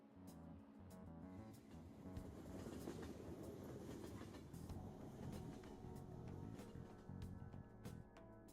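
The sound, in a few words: train riding on rails in Persona 5 video game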